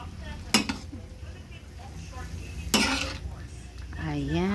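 Utensils scrape and clink against a pot of pancit noodles in two sharp bursts, with a low simmering bubble underneath and a brief voice near the end.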